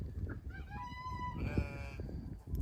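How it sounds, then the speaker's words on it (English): Farm fowl near a barn give a run of honking, clucking calls, several in quick succession, fairly faint over low background rumble. "She can hear the chickens."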